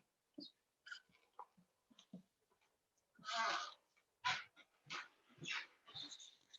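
A dog moves close by in a quiet room during a yoga session, making short sniffs, snuffles and whimpering breaths in scattered bursts, some louder and nearer than others.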